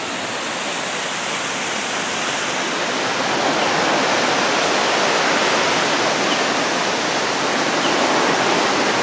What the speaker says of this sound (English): The waterfall's right here.